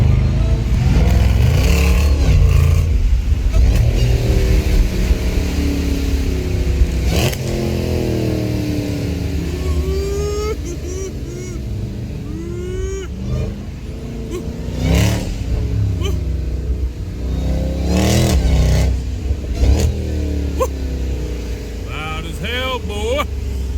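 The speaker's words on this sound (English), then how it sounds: "Just coming from getting the exhaust sound, both of them crazy." A Dodge Jailbreak fitted with a new AWE exhaust system revs loudly and repeatedly, the deep engine roar rising and falling close by, with people talking over it.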